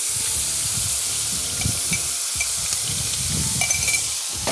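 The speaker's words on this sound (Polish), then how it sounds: "Mieszamy to elegancko. Elegancko się smaży." Duck fat sizzles steadily in a frying pan while fried rice ingredients are stirred in, giving a constant loud hiss with occasional crackles and soft stirring scrapes.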